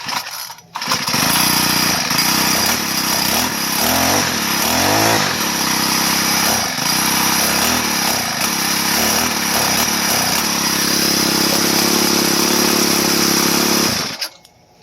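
A weed whacker's small engine, just fitted with a replacement carburetor, starts up and runs for about thirteen seconds at a loud, wavering idle drone, then cuts off abruptly. No speech.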